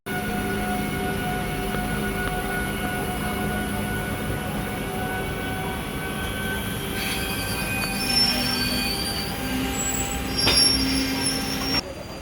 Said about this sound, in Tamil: பக்கத்தில் பார்த்தீங்கன்னா இந்தியாஸ் ஹை பவர் லோக்கோ போயிட்டு இருக்கு